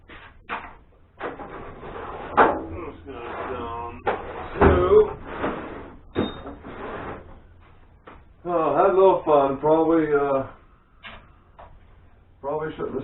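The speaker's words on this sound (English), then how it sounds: "Okay, this goes in this drawer." Drawer being opened and closed in a home machine workshop, with several short wooden clunks and slides scattered among a man's speech, close and fairly loud.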